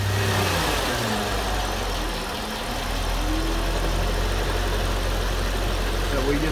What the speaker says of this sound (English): So we just turn the car on.